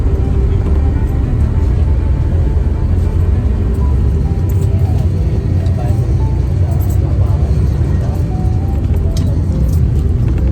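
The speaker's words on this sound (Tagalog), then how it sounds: "Traffic guys, traffic. This is normal here in the Philippines, in Cavite." Road traffic in Cavite, Philippines: a continuous dense rumble of passing vehicles with scattered honks and clatter throughout, fairly close and loud.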